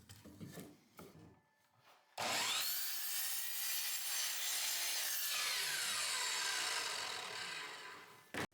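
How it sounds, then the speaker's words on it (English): A miter saw slices through a 2x6 board for a batch-built bench, its loud, sustained whine and cutting roar running for about six seconds after a few quieter knocks and shuffles of handling the wood. "I use my miter saw to make quick work of that"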